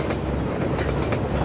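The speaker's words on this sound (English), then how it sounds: "Oh, there's a train coming." A passing train in the video game Half-Life 2 rumbles steadily with a continuous rolling roar and faint clickety-clack of wheels, loud and close, with no voices over it.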